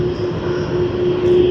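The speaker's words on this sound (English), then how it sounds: "Virgin Australia, Boeing 737. Most likely one of the domestic departures." A Virgin Australia Boeing 737 departs Sydney on a domestic service to Melbourne, its jet engines a steady, loud roar with a sustained tonal whine, swelling slightly toward the end.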